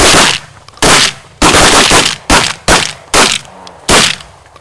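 Shotguns fired during early-season goose hunting: six loud, close blasts in quick succession, each with a sharp crack and brief ringing tail, fired alone without talk.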